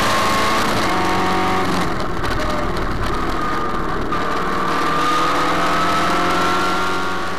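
Fórmula Inter race car with an MG15 engine racing on track, a loud sustained engine whine with shifting pitch as it rises and falls, close and continuous.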